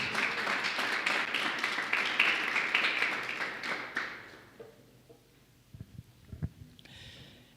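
Church congregation clapping in praise during a sermon, a dense burst of applause for about four seconds that fades into scattered thumps and taps.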